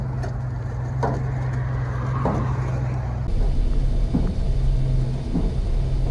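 A 1977 Chevy K10 pickup, loaded with steel, rolls slowly along a neighborhood road on a shredded, wadded-up tire, its engine rumbling low and steady under thumping, flapping knocks from the ruined tire.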